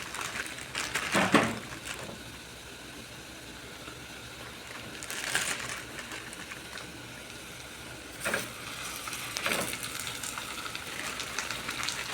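Minced meat fries with onions in a pan, a soft continuous sizzle that swells into louder bursts of crackling hiss every few seconds as the mixture is stirred, close by and without speech.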